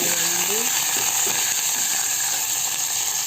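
Green chillies and curry leaves fry in hot oil for tamarind rice, giving a steady, close, hissing sizzle throughout, with faint stirring taps and a voice briefly heard at the start.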